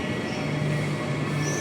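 A packed Perth Midland Line suburban train rumbles along in a steady, loud interior roar with a faint high squeal from the wheels, no voices heard.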